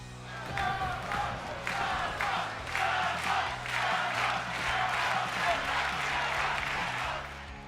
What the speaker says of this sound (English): the crowd will instead chant Ciampa